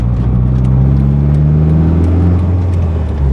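A loud, steady exhaust drone from a turbocharged car's muffler holds a constant low rumble throughout, close and droning without pause.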